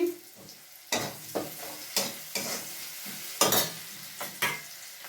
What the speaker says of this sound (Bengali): এই যে সাদা গোটা জিরে ফোড়ন দিয়ে দিচ্ছি